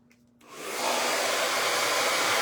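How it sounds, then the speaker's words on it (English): A hair dryer blows on a craft piece, starting quietly and ramping up within half a second to a loud, steady rushing whoosh with no talk. "I'm going to blow dry this one so I don't stick my hand in it and smear it"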